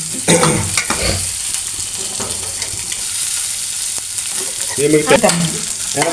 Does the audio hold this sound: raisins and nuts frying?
yes